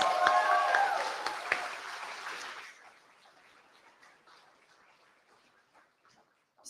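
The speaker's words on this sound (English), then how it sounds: "Can we give another round of applause to our speakers?" Audience applause at a university year-end cultural celebration, a dense burst of clapping and crowd noise that fades quickly over a few seconds to near quiet.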